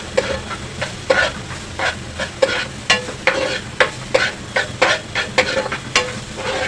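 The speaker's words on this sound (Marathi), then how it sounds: "कांदा सोनेरी रंग होईपर्यंत चांगला भाजा" Onion fries in oil in a pan over high gas flame while a spatula stirs it, giving a continuous sizzle broken by regular scraping strokes about twice a second, close and loud.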